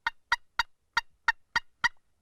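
Seven crisp yelping notes from a turkey box call, evenly spaced and fairly loud, each a short raspy two-part yelp with no talking.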